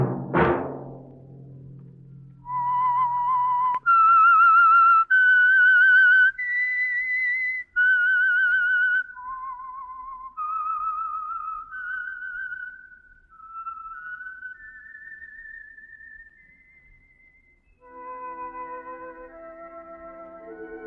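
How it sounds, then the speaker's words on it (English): A whistled melody serves as the theme signal for the Signal Oil radio program The Whistler, a clear solo tune of held and gliding notes that follows a short sharp hit, then shifts to a lower sustained harmonic passage. "Let that whistle be your signal for the Signal Oil program, The Whistler"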